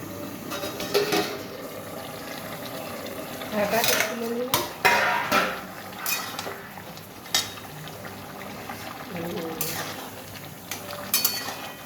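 A pot of cauliflower set to boil in water gets covered with a lid: close metallic clanks and scrapes of the lid and utensils ring out at scattered moments over a low background hiss.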